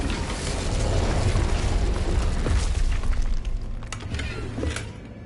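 A loud, sustained magical blast from the Bombarda spell in a game, a dense rumbling roar with crackling debris and creaks that fades slightly toward the end, with no talking.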